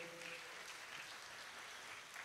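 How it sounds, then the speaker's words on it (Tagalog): Church congregation applauding together during a worship service, a faint, steady wash of clapping with no talk over it. "Malakas sa palakpak, ibigay natin sa Lord."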